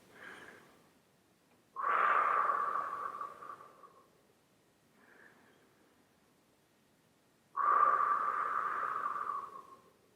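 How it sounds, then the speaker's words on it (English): Two slow exhales through pursed lips, each a long, soft rushing blow that fades out, come after a quieter inhale through the nose as part of calm belly breathing. The sound is close, steady and free of talk. "Long, slow belly breath in through the nose, and long, slow exhale through pursed lips."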